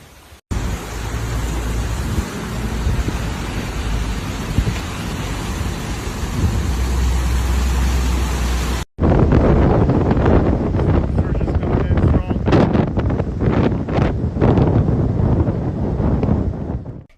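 Storm in Florida with hurricane-force wind gusts roaring and rain pounding steadily, loud and continuous, with buffeting wind noise on the microphone and a brief gap partway through.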